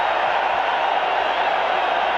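A packed football stadium crowd at a 1985 Monday night Packers versus Bears game roars in a dense, steady wash of cheering and chanting, loud and continuous throughout with no single voice standing out.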